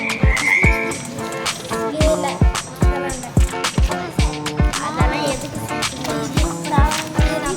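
Frogs croak loudly in a steady series of repeated pulses, close up and prominent, with short gaps between calls and no voices.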